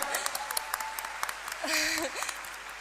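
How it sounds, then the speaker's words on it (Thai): Audience applause at an awards ceremony for a best supporting actress prize, scattered claps close by with a brief swell, heard under a speaker's voice for just under three seconds. "ขอเสียงปรบมือเป็นกำลังใจหน่อยครับ"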